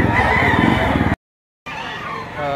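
A bull stag rooster over a year old crows loudly and close by at Lipa City Livestock Auction Market early on a Saturday morning, giving one long crow that cuts off and then a second that begins after a brief silence.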